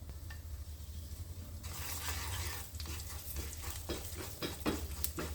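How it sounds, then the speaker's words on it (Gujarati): Fennel seeds and white sesame seeds with asafoetida sizzle in a spoonful of hot oil, with a close, steady crackle and the scrape of stirring. No one speaks. "તલ અને વરિયાળી તેલ સાથે એકદમ સરસ સાંતળી લેશું।"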